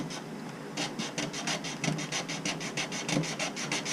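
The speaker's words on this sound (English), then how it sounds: "We got to get this sanded down," Rough scraping rasp of sandpaper working old glue off a paddle, a steady run of rapid back-and-forth strokes, close and fairly loud with no talk.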